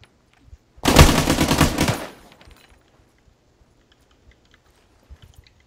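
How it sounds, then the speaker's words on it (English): Single sustained burst of machine gun fire in ArmA, rapid loud rattling for about a second then cut off, followed by faint scattered clicks and quiet background. "Well, I love that machine gun."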